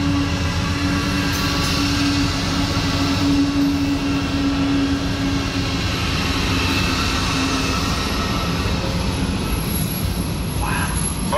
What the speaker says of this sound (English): catch one more train, this time in the form of westbound manifest 36Q